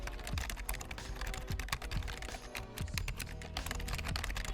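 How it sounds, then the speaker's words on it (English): Rapid typing on an AGoL L70 gaming keyboard with mixed matte and gloss keys: a quiet, steady patter of many close key clicks with no talking. "and here's a quick typing demo."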